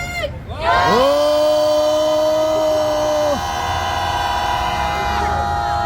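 A protest crowd outside a police station raises a big sustained shout in support of students, a loud drawn-out roar with strong horn-like tones that swells quickly, holds for several seconds and then eases.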